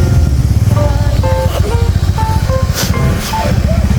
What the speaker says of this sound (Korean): 오토바이.